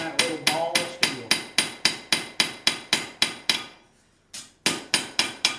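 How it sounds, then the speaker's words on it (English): A blacksmith forges a hot steel horseshoe on an anvil, the hammer striking in a fast, steady rhythm of loud ringing blows, with a short pause before the strikes resume; no talking. "I'm not just laying my hammer and chasing this piece around. My hammer about stays here the whole time."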